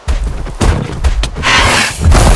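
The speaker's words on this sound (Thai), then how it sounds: "ระเบิด" Loud, rumbling video game explosions with booming thuds and crackling bursts, several blasts overlapping in quick succession.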